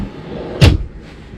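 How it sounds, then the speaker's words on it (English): A drawer under the dinette booth of a 2020 Rockwood GeoPro 19BH travel trailer slides and bumps shut with a single close, solid knock, followed by a faint softer rattle. "you're going to have a nice drawer"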